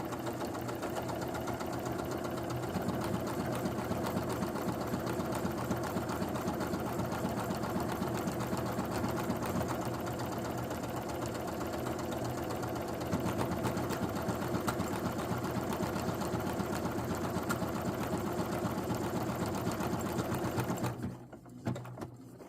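A sewing machine works a buttonhole in fabric, a continuous fast, even whirring and clatter of the needle that runs loud and close before stopping abruptly near the end.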